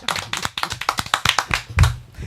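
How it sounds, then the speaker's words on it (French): Clapping from a small group in a radio studio during a live arts broadcast, a quick run of sharp hand claps over about two seconds, close and fairly loud. "applaudit bien fort"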